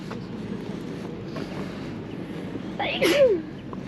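A single short sneeze cuts through outdoor wind noise and low ambient rumble in Dalyan, Turkey.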